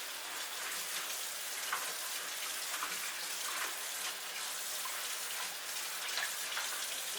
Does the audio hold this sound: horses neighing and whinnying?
no